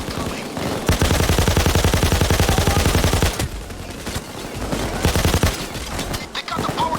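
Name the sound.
gunfire in a video game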